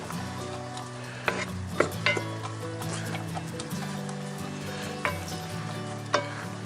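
Chicken and bacon sizzle in a Dutch oven while a tool stirs through them, steady frying crackle with several sharp scraping clinks of the utensil against the pot.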